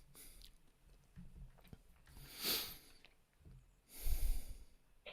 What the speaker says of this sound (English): If I sniff much more, I'll be snorting it.